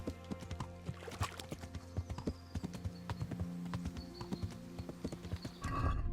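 Horse hooves clip-clop steadily in Kingdom Come: Deliverance, a busy run of close, sharp hoof strikes with a brief whinny-like rise near the end, no talk over it.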